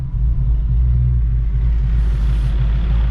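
Engine rumbling and wheels spinning on a Ford Mustang or Pontiac G8 GT, a loud, steady low-pitched roar that holds throughout with a brief higher whine near the end.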